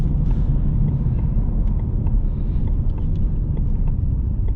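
A 2021 Ford Mustang Mach 1 V8 with a six-speed manual, heard from inside while driving: a steady low engine rumble and road drone, continuous and fairly loud.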